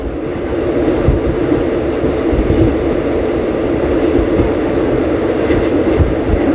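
Riding rapid train 135 from Krung Thep Aphiwat to Ubon Ratchathani near Don Mueang, back at ground level: a loud, continuous onboard rumble with rhythmic clickety-clack wheel thumps and faint higher squeaks.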